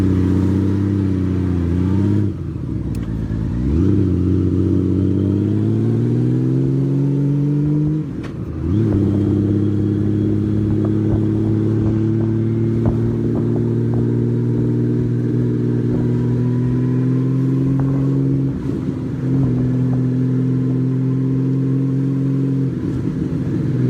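A motorcycle cruising on a Tokyo commute through fields, its engine droning steadily and loudly close by with rising and falling pitch through gear changes.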